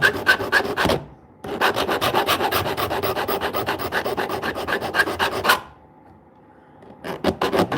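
A file rasps rhythmically across a saw tooth in quick repeated strokes, one short burst, a pause, a long run of strokes, then silence before a final few strokes, close and alone.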